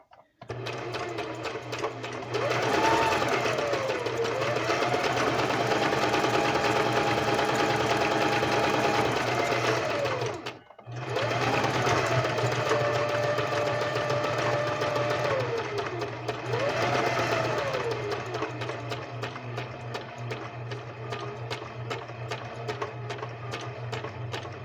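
A sewing machine running continuously at a steady, whirring rhythmic hum with repeating tonal swells, close and loud, with a brief stop near the middle before it starts again.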